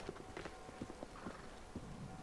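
A horse's hooves clip-clop at a steady walking rhythm in Assassin's Creed Syndicate, faint and close, set against a constant hiss of game ambience with no talking.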